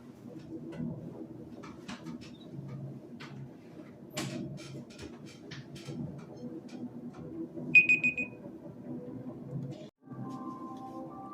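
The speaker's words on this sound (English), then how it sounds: "I'm gonna wait until the timer goes off so I can reset the section" A timer alarm during a Mass Effect play session gives a short burst of bright beeping tones over a faint, cluttered background of clicks and low hum.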